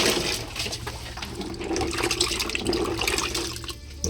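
Running water pours steadily as about 2 to 3 kilos of kamansi (breadnut) are washed by hand, a loud close splashing rush with small surges, no talking.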